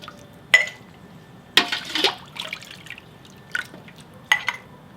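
Boiled dry beans are scooped into warm canning jars in a kitchen, giving several separate wet plops and small clinks spaced over a few seconds, close and moderately loud, with no talk.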